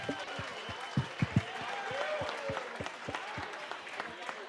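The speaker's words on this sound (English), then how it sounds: "So let's give them a round of applause" Crowd at a fundraiser auction dinner applauds a winning bid, a fairly faint wash of clapping with a few sharper nearby claps, voices murmuring underneath.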